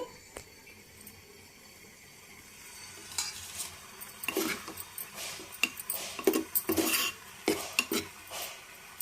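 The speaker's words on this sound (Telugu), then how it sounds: "పప్పు తాలింపు వేసుకుందామండి" Quiet kitchen sounds build into sharp sizzles and metallic clatters of a spoon stirring in a hot pan as dal is tempered in oil, with bursts of frying toward the end.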